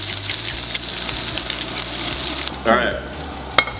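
Salmon cakes made with sauerkraut sizzle steadily as they fry in butter in a pan, a close, continuous crackle, with a brief spoken remark near the end.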